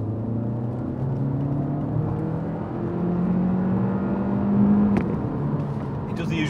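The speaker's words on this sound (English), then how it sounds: "It does the usual thing of holding its revs too long, yeah." Cupra Formentor plug-in hybrid with a DSG dual-clutch gearbox in sports mode, its engine droning and holding high revs with rising harmonic tones, heard from inside the cabin under a steady road roar while people talk.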